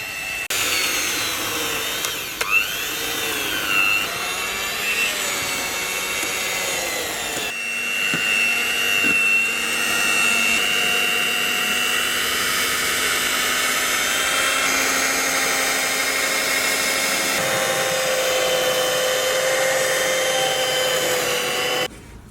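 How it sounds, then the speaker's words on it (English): An electric mixer whips non-dairy topping cream with ice cubes for a black forest cake, a loud steady whirring drone that runs throughout with shifts in pitch as the beaters work. "Let's whip the cream."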